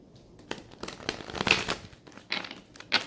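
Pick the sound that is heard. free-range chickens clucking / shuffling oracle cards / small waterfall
shuffling oracle cards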